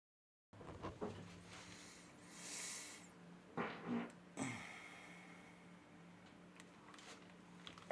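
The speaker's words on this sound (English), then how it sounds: "think they just heard me fart" A single short fart, fairly close, comes during a live reaction recording, standing out as brief bursts against a quiet background hum with no talk over it.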